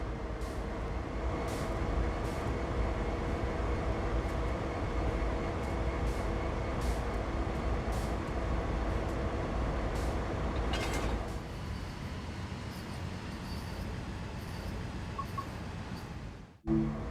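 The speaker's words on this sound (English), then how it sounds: "once I couple up to this locomotive here, it will end the service" A locomotive idles and rumbles steadily in Train Sim World 5 during a Framingham switching job, with faint clanks along the way and an abrupt cutoff near the end.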